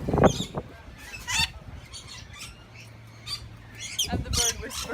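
A bird squawks in short harsh bursts at the start and again near the end of an outdoor scene, with faint people's voices and background noise between the calls.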